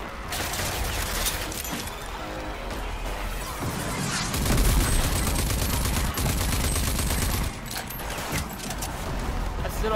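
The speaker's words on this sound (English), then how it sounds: "Is that a shotgun?" Gunfire in the video game Rage 2, including shotgun blasts, in a loud, dense barrage of rapid shots and crashes that continues without pause, with a heavier burst partway through.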